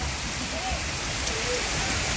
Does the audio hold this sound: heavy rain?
yes